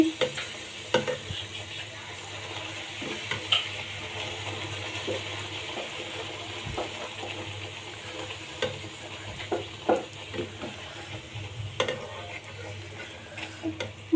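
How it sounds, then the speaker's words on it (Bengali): Map-shaped luchi flatbreads deep fry in a pan of oil, a quiet bubbling sizzle under soft scraping and stirring, with scattered clicks and taps of a utensil against the pan. "লুচি ভাজাটা কিন্তু একদম সহজ, 1 মিনিটও লাগে না লুচিটা ভাজতে।"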